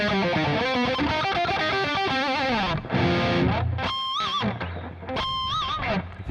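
A heavily distorted electric guitar plays a dense, driving riff and then sustained bent notes with wavering harmonics, loud and close with no talking.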